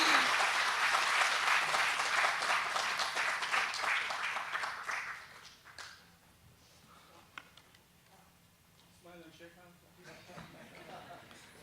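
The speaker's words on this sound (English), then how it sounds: "Round of applause." Audience applause at an engineering member group launch in Trinidad and Tobago, a loud sustained burst of clapping for about five seconds that fades into quieter murmurs and scattered claps.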